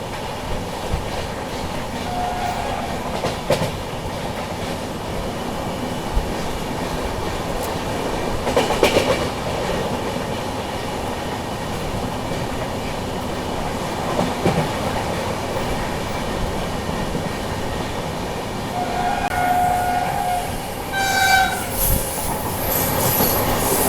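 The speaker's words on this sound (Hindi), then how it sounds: "ये थी आपकी मैंगलोर तिरुवनंतपुरम सेंट्रल वंदे भारत एक्सप्रेस।" Mangalore–Thiruvananthapuram Central Vande Bharat Express running with a steady rumble and clickety-clack of wheels on track, continuous and fairly loud, with brief squeals and rattles, no voices.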